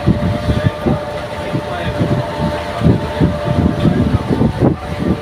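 A ship cruising on the sea near Muscat, Oman, gives a deep, continuous engine rumble mixed with gusty wind buffeting the microphone.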